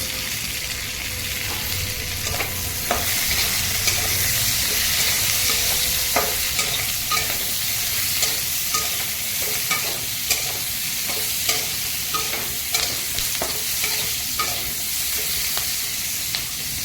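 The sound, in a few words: sliced onions frying in a pan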